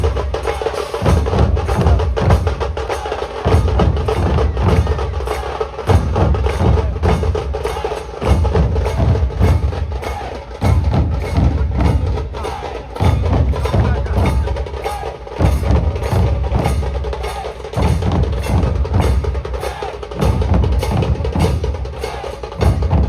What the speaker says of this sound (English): Yes, I can hear the beat of the drums.